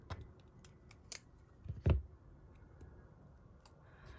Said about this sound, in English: These are my favorite scissors from Crafter's Companion, and they are perfect if you want to cut your tape or 3D foam pads.